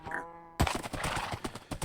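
A horse in the EpikTek modpack game whinnies briefly, then a quick run of close hoof clops and thuds follows.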